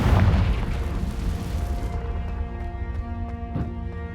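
A Confringo spell explosion in Hogwarts Legacy bursts loudly at the start with a deep boom, then decays into a ringing, tonal magical hum with a faint second pop near the end.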